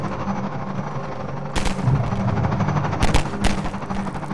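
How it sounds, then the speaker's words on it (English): Gunfire in the video game Half-Life 2 comes in distant bursts against a steady low rumble, with sharp loud shots near the middle and end of the clip, and no talk. "They appear to be getting shot at."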